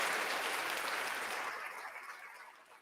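Audience giving a round of applause to a guest, a dense clapping wash that starts fairly loud and gradually fades toward the end, with no talk over it.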